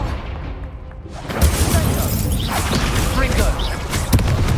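The Incendio fire spell cast in Hogwarts Legacy bursts in as a loud broadband whoosh of flame after a quiet start, followed by crackling, thumping combat noise.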